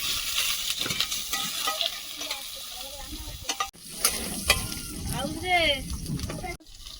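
Chopped onion and halved green chillies frying in oil, a moderate crackling sizzle with stirring knocks, while birdsong and a voice come through over it.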